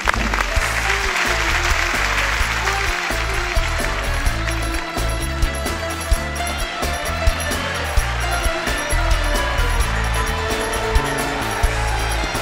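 Audience applause for a singer at a televised Ankara folk-song show, loud continuous clapping from a large crowd filling the whole stretch without break.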